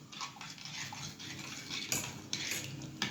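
A spoon scrapes and clinks against a pot while stirring vermicelli with caramel powder, still cold before heating; quick irregular metallic taps and scrapes, close and fairly quiet, with no talking.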